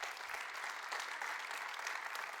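A church congregation applauding, a dense, even wash of many hands clapping continuously throughout, moderately distant and filling the room with no voice standing out.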